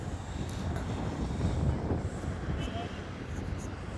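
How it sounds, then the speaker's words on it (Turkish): A light breeze over the Bosphorus in Istanbul on a sunny day rushes steadily against the microphone as a continuous, moderately loud broadband hiss. "Hafiften bir esinti."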